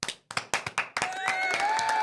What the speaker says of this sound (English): And we have the applause too.